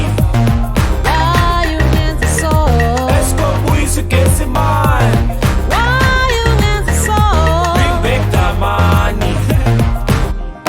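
Kwaito beat built in music production software, a dense, loud, continuous mix of deep bass, steady drum hits and bright synth melody lines running throughout without pause.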